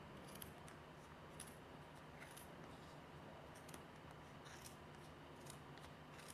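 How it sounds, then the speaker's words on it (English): Sharp scissors snip through thick yarn wound on a large pom pom maker, a few quiet clips spread across a low steady background hum. "So you need sharp scissors because this is really thick."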